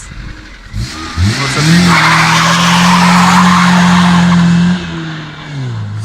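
Lada Priora launching hard from a standing start, tires skidding and squealing loudly as the engine revs up and holds a steady high drone for a few seconds before easing off; someone speaks briefly at the start.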